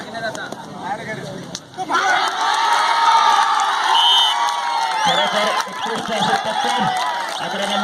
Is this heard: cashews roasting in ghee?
no